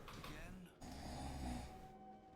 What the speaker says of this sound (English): Is the snoring really loud for the stream?